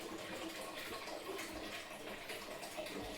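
Tap water runs in a steady, hissing stream, continuous and fairly close with no pauses, and no voices over it.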